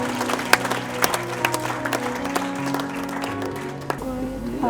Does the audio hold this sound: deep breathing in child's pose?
no